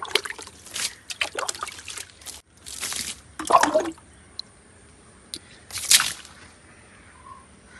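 Fermented rice water being drained off from the bottom of a container, several short bursts of trickling and splashing liquid close up with quiet gaps between, no talk.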